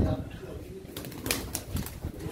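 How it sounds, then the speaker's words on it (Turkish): A flock of pigeons takes off and flies at a pigeon auction, wings flapping in bursts over a low background murmur of voices. "Evet kuşlar uçuyor."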